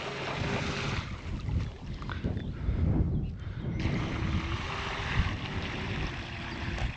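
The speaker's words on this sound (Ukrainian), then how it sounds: "та взривуть мотори во ім'я нового лодочного човнового сезону" Boat motors running on open water at the start of a river boating season, a steady outboard drone heard under heavy wind buffeting on the microphone, fairly loud and continuous.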